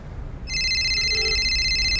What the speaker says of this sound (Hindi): किसका फोन है देखो?